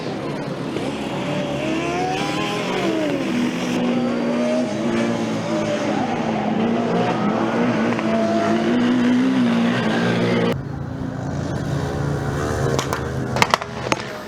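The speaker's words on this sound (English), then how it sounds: "hearing a lot of noise from this car coming down the straight here at our position at start-finish line" Formula Student race cars at a German endurance event roaring down the start-finish straight, a loud sustained engine drone with rising and falling pitch as cars pass close, the sound dropping off abruptly toward the end.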